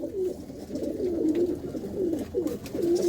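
A prized flying pigeon coos nearby in a low, throaty, repeated rolling call that pulses steadily throughout with no talking over it.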